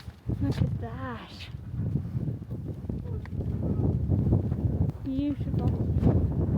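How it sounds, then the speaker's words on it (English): Strong wind buffets the microphone outdoors at a mansion grounds with orange trees and picnic tables, a steady low roar throughout, with people talking over it. "It's so windy."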